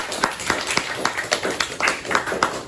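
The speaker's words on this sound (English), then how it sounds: "Give her a round of applause." A small group claps for a presenter after a macaroni necklace demo, with brief, fairly sparse hand claps and a faint voice beneath.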